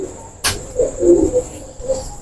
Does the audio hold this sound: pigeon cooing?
yes